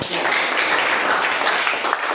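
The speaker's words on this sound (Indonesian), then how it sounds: "Berikan tepuk tangan kepada temanmu." Classroom applause for a student during a science lesson, a dense wash of clapping from a roomful of pupils that keeps steady and close for the whole stretch, with faint voices mixed in.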